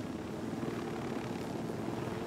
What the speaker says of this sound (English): I'm just following you in the helicopter.